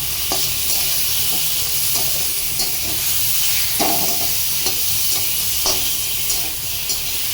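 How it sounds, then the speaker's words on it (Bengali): Chicken stirred in a pan with turmeric and salt, a loud continuous sizzle with regular scraping and tapping of the stirring spoon, no voices. "এবারে দিয়ে দিচ্ছি হলুদ আর দিয়ে দেবো এই যে নুন আবার নেড়ে দেবো"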